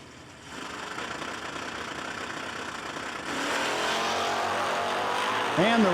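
A Camaro drag race car at a no-delay nationals drag racing event idles and then revs up louder, its engine roaring under an announcer's commentary.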